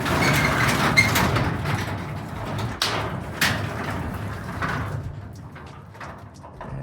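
A large sagging garage door, reinforced underneath and with extra torsion-spring tension, rolls and rattles along its track with scraping, clanking bumps and a few sharp metallic knocks, fairly close, gradually quieting.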